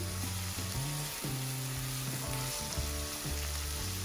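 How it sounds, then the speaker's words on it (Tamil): Meat sautés with salt and onions in a pan, giving a steady, close hiss of frying. Bubbling crackle and stirring scrapes run through it, with no voices. "இப்போ நல்லா வதங்கி இந்த இறைச்சி வந்து தனித்தனியா வரும்."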